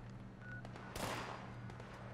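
Gunfire in Fallout 76 during a workshop PvP defence against a super mutant NPC: a single sharp burst near the middle of the clip stands out over a steady, hum-laden background of game noise.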